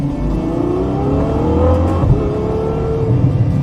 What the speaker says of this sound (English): Every time I put my foot down, it's like a symphony.